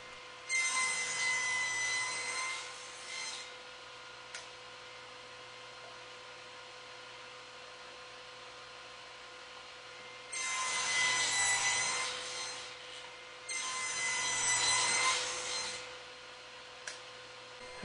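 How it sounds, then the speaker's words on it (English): A saw cuts tenons on both sides of wooden apron rails for a table, heard as three separate rasping bursts of cutting with quiet pauses between, moderately close and with no voices. "Now cutting the tenons on both sides of my apron rails."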